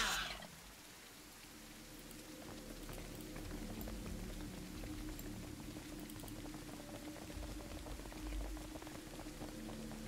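Steady, soft rainfall patters continuously over a low droning hum in the sci-fi game Aliens: Dark Descent, a faint, even wash with a brief brighter burst at the very start.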